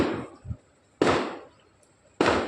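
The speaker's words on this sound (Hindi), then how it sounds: "बारात आई है, उसी की वजह से इतने पटाखे की आवाज़ आ रही है" Firecrackers set off for a wedding procession by a marriage hall next door, three sharp loud bangs with fading tails roughly a second apart, plus a small pop between the first two.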